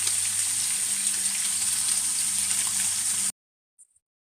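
Tilapia fillets fry in a hot pan with a steady, dense sizzle and a low background hum, cutting off abruptly after about three seconds, followed by a brief faint click.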